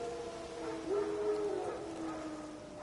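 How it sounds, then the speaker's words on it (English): Wild dogs in a video game let out a single drawn-out howl that rises and fades, heard at a moderate distance over a steady ambient background. "Wild dogs. Yes. More dangerous than wolves."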